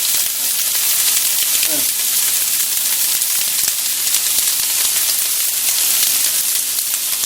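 Ground beef fajitas with onions and peppers frying on a Blackstone flat top griddle, a steady, broad sizzle and hiss throughout with a brief faint scrape of a tool.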